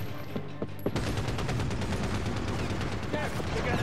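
Rapid machine gun fire in the video game Medal of Honor Warfighter, a dense, sustained burst of loud close shots that starts about a second in after a few isolated bangs and continues to the end.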